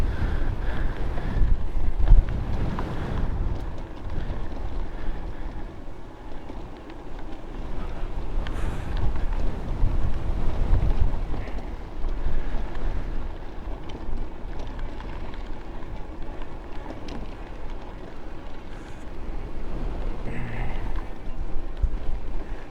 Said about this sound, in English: It's quite windy too.